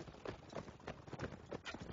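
Sarranid horses galloping in a multiplayer video game battle, rapid rhythmic hoofbeats repeating in quick clusters, faint and low in level.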